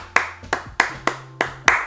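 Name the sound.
hands clapping a one-bar rhythm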